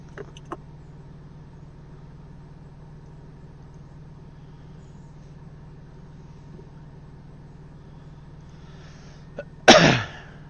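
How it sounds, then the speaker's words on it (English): A single sharp, loud cough bursts out near the end over a quiet, steady engine hum, after a couple of faint clicks. "That was a cough."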